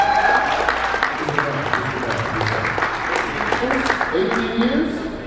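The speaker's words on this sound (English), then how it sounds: "that's a big round of applause" Applause from an audience at an awards ceremony honouring influential Asian Americans fills the room, a dense steady clatter of clapping with talk running over it throughout.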